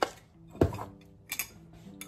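Oats spooned into a bowl, with a few sharp clinks of a spoon against the dish and soft scraping in between, close and brief.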